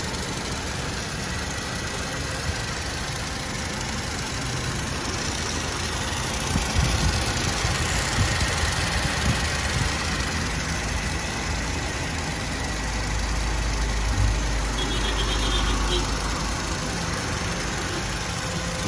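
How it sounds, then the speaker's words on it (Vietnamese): A 2013 Toyota Innova E with manual gearbox idles steadily up close, a smooth even engine hum with a low rumble and no talking over it. "Tiếng máy nổ rất là êm."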